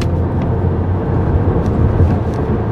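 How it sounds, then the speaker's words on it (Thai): Haval H6 Pro hybrid SUV accelerating hard from around 60 to overtake, heard from inside the cabin as a loud, steady low engine and road roar with no talking. "มาลองอัตราเร่งนะครับแต่แถว60นะครับเดี๋ยวจะกดเร่งแซงนะไปครับ"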